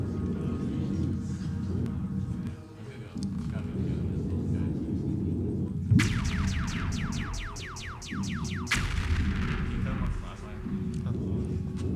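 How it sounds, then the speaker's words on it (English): Laser beams firing rapidly in a video game, a quick burst of repeated zapping shots midway over a steady rumbling game soundtrack and a person talking. "He has the superpower of being able to shoot laser beams very fast."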